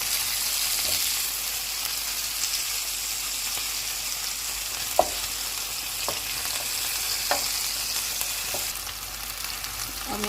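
Chicken cheese steaks sizzling steadily in a covered pan over low heat, a continuous close frying hiss broken by a few sharp scrapes and taps as the pieces are turned.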